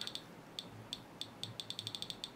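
A capacitive nulling-bridge stud detector emits sharp, high-pitched electronic ticks, first sparse and irregular, then a quicker run of evenly spaced clicks, close up and fairly quiet over a faint low background hum.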